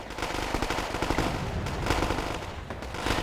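Harrier jets strafe a town in the video game Wargame Airland Battle, their cannons firing a continuous loud, rapid rattle of gunfire that holds steady for several seconds with no pauses.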